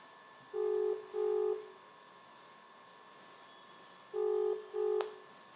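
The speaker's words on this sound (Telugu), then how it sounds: "కాల్ చేస్తున్నాడు లిఫ్ట్ చేద్దాం" Two pairs of short electronic mobile phone ring tones from an incoming call, a steady pattern with a pause between pairs, clear against a quiet background.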